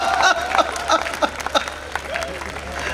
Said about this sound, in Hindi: और अब आपकी तालियां उठेंगी